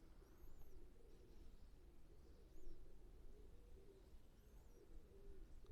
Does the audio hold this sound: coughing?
no